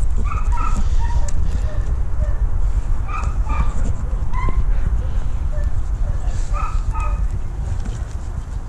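Dog whimpering and yipping with occasional barks, close by, in several short bursts under a noisy background with a person talking throughout.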